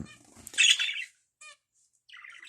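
A few loud, harsh budgerigar squawks close by in a bedroom, followed by a short chirp and a stretch of softer chattering after a brief silence.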